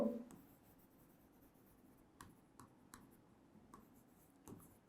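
A pen scratches and taps on paper in short, quiet strokes, with small clicks between them, close up in a quiet room.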